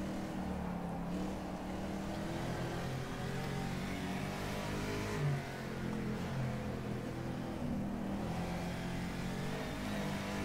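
A 1969 Howston G4 race car with wide tires drives in rFactor 2, its engine droning steadily at a moderate level with gradual rises and falls in pitch as it accelerates and shifts.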